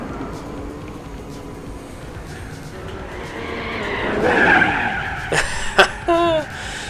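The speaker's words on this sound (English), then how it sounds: "The longest crash in history." Car crashing and skidding in the Gran Turismo 4 video game, engine drone building into rising tire squeal and a sharp skid, then short bursts of screeching near the end.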